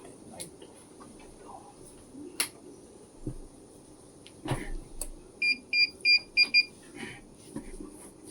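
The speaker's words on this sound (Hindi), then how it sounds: "ये जो बीप का साउंड आ रहा है आपको, ये हार्ड डिस्क इनिशियलाइज नहीं की है हमने" A Hikvision DVR with an uninitialized hard disk beeps a series of short, sharp electronic tones in a quick regular run, after a few scattered clicks and knocks in an otherwise quiet room.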